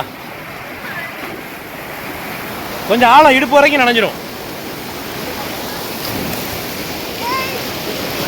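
Water pouring through the opened dam shutters at Kallanai near Trichy produces a loud, continuous broadband roar like heavy surf, with a person speaking briefly in the middle over the rushing water.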